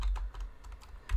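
Code being typed on a computer keyboard for a JavaScript image slider, a quick run of close, crisp key clicks with no talking.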